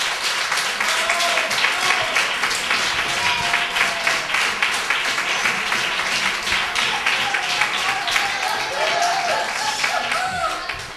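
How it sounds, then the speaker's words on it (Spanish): Applause from an audience at a youth football team's season closing ceremony, dense steady clapping that stays loud and close for about eleven seconds, with a few voices faintly mixed in. "Pido un aplauso para él, que se lo merece."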